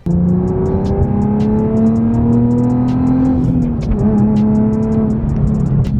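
Nissan 370Z fitted with a Mishimoto oil cooler drives on the road, its engine holding a steady loud drone with slowly shifting pitch throughout, plus faint ticks and rattles, and no voices.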